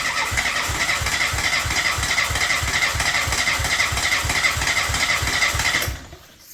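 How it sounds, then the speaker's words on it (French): A 1986 Peugeot 205 GTI with a 1.6-litre engine runs loud and close, its steady rapid pulsing exhaust beat holding for about six seconds before it abruptly cuts to near silence. "Et après ça, on va essayer de la faire démarrer."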